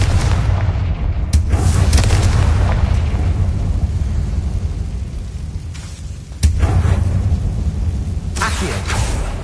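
A Confringo blasting spell explodes in Hogwarts Legacy, a heavy booming roar with sharp bursts layered over a continuous low rumble, loud and close with no talk.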